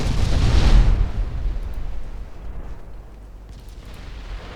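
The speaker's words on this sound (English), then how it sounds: "Oh, that's a torpedo hit." A torpedo striking a warship in a naval battle game set in the 1939 Norwegian campaign: a loud, deep explosion bursts at the start and then rumbles away into a long fading roar.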